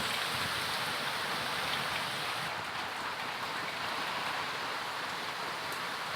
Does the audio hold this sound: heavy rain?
yes